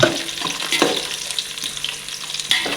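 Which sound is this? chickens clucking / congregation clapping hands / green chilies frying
green chilies frying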